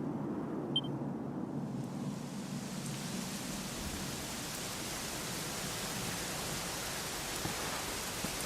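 Steady, dense rainfall in Dragon Quest XI hissing continuously at a constant level, a broad wash of drops with no voices.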